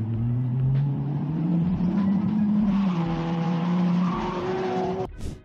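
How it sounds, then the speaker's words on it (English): An AI-generated high-performance racing car engine roars at full throttle, its pitch climbing steadily, while tires screech on asphalt, loud and close, ending with a sharp cutoff. "high-performance racing car engine, roaring at full throttle, tires screeching on asphalt"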